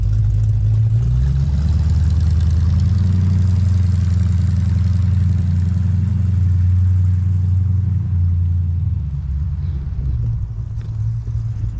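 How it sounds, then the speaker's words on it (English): Loud, deep rumble of a 1955 car's engine idling with no exhaust pipes and cherry bomb mufflers, close and steady, the pitch dipping slightly near the end. "without exhaust on it and them cherry bomb mufflers right underneath your feet, that thing is obnoxious"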